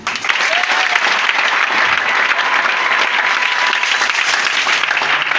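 A congregation at an Easter seminar bursts into loud, dense applause and acclaim, sustained and even with faint cheering voices woven through the clapping.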